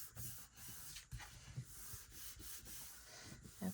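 A folded paper folio being rubbed firmly along its crease, a faint, close, continuous papery scrubbing with repeated strokes and no voices.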